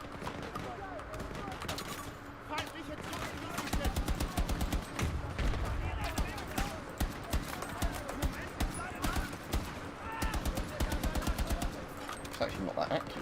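Rifle hip fire in Battlefield 2042 cracks out in quick bursts of close, sharp gunshots, repeating rhythmically under game noise and someone talking.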